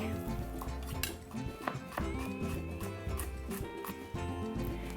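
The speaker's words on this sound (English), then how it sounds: "Then we're going to mince 2 cloves of garlic." A knife minces garlic cloves on a cutting board with quick, irregular taps and clacks close by. A steady tonal background plays underneath.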